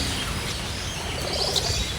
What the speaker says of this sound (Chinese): 出来发现有的小鸟也淋成了落汤鸡